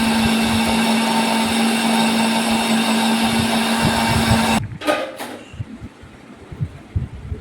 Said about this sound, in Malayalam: രാത്രി അത്താഴത്തിന് അരിയാട്ടി വെച്ചതാണ്.